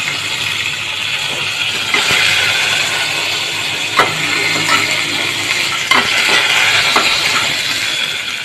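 Mustard and cumin seeds spluttering in hot oil: a loud continuous hiss broken by sharp pops and crackles every second or two, close by, with no voices.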